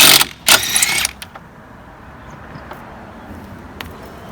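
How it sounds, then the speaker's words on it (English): A battery-powered impact gun removing lug nuts from the wheel of a 1998 Chevy Cavalier 2.2L, giving a loud rattling burst and a second short burst, then a quiet garage with faint clinks. "I'm gonna put it over that and just take your lug nuts off."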